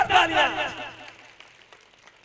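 Brief applause and crowd cheering at a Hindi religious storytelling gathering in a packed pandal, a loud burst that quickly fades to scattered faint claps.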